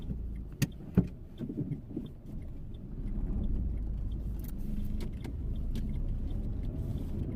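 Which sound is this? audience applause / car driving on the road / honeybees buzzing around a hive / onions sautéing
car driving on the road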